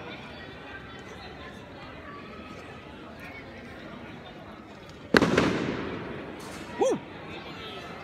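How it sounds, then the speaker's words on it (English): A single sharp firework bang bursts out of steady outdoor crowd noise on a street in Spain, its crackle fading, followed by a shout of excitement. "These fireworks are going off with a bang here."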